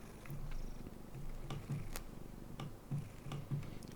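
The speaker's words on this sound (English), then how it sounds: "You might be able to hear him purring." A pet cat lying on its owner's lap purrs steadily and close, a soft low rhythmic rumble with faint ticking clicks scattered over it.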